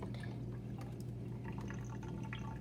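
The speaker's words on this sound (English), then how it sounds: "Now we're gonna dump the water out." Water is poured out of a container, a faint trickling, splashing flow over steady low background hum, with no talk.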